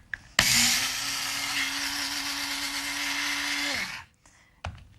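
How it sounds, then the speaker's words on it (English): A coffee grinder grinds flax seed in a kitchen, a loud steady whirring motor buzz for about three and a half seconds that winds down, followed by a couple of faint clicks. "We just use a coffee grinder. It's the only thing I use the coffee grinder for just about is flax."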